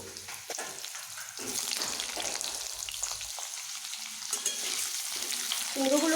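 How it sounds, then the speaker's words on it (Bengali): Cut pumpkin pieces drop into hot oil with a cumin-seed tempering, frying and being stirred in a pan: a steady close sizzle with scraping stir strokes, no talking. "এইবার আমি এখানে কেটে রাখা কুমড়োগুলোকে দিয়ে নেব"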